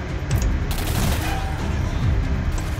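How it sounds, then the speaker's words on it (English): Rapid gunfire in the video game Singularity crackles in a dense, continuous burst of shots that stays loud throughout. "Are you shooting me?"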